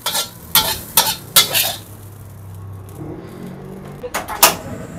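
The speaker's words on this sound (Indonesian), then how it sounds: "Oke, tumis kangkung" Water spinach (kangkung) stir-fried in a pan: a spatula scrapes and clatters against the metal in several quick strokes, with a steady sizzle of frying underneath.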